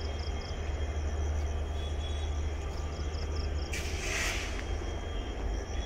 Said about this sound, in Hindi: new Jalpaiguri Darjeeling to Himalayan railway, ये ऐसे चलेगी